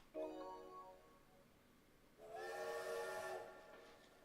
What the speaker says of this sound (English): Oh, it looks like the Yurukill train has arrived.